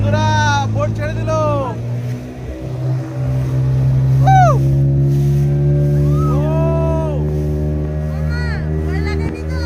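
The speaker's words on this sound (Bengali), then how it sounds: "তো বন্ধুরা, বোট ছেড়ে দিল।" A motorboat pulls away from the shore with its engine humming steadily throughout, while several people talk loudly over it.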